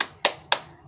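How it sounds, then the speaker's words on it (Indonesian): Three sharp hand claps in a slow, even rhythm, close and fairly quiet, with no voices, as children perform the Tepuk An-Nas clapping pattern in a primary school lesson. "mengajarkan dulu tepuk anak Islami, yaitu tepuk An-Nas"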